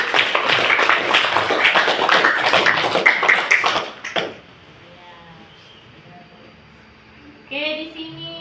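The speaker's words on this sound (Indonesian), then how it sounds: "Oke, kasih tepuk tangan." Group of students clapping hands in a university classroom, a dense burst of claps lasting several seconds before fading into quiet room tone, with a voice speaking near the end.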